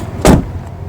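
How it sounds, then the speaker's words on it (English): A single car door thuds shut on a car being inspected for past accident damage, one short, close, loud impact with a broad low-frequency body and a brief decay, and no talk. "Doors are closing"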